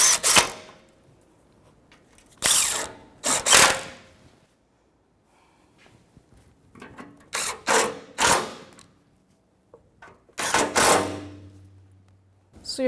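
A hand ratchet snugs up four bolts on a power steering pressure line of a 2005–2021 Nissan Frontier, in separate bursts of rapid clicking with quiet pauses between them and no talking.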